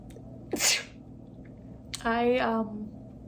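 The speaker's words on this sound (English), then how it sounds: "Excuse me, I'm gonna sneeze." One close sneeze with a sharp inhale-burst, then a short voiced sound trailing off, in a quiet room with faint background hum.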